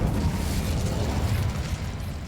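The Incendio fire spell is cast in Hogwarts Legacy, a loud, dense, rumbling burst of flame that roars steadily for a couple of seconds.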